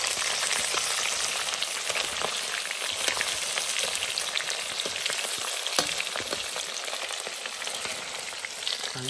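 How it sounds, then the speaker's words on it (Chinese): Fish fries in a generous amount of oil in a pan, giving a dense, continuous sizzle with crackling pops, close and steady with no voices. "明煎好了之后，然后再煎这边的鱼肉"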